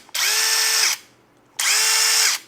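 An OSUKA OCID821 cordless impact driver whirs in two short, loud bursts with a brief pause between them, close by.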